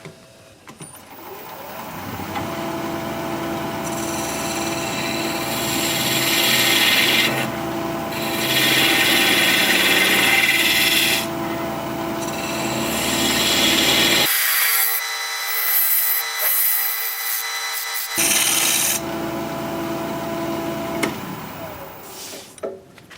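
A wood vase spinning on a lathe while a cutting tool thins its wall, a continuous loud rasping scrape that swells and fades with each pass and drops out briefly near the middle.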